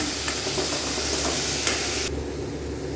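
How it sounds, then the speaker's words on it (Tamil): Tomatoes and onions sauté in a pan for a potato kurma, giving a continuous loud sizzle with stirring scrapes that drops to a softer hiss partway through. "தக்காளி கொஞ்சம் வதங்கட்டும் நல்லா"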